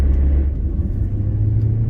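A Rover 214 engine runs steadily while the car drives at around 40, with a constant low rumble and road noise from inside the cabin.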